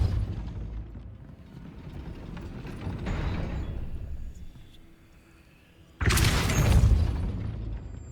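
In Hogwarts Legacy, a Depulso spell is cast at a mechanism meant to raise a gate: grinding, ratcheting machinery rumbles and fades, then a sudden loud booming burst of force hits near the end.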